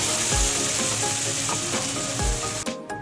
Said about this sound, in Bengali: পেঁয়াজ টমেটো আমার কিন্তু ভাজা হয়ে গেছে, রসুনও ভালো করে ভাজা হয়ে গেছে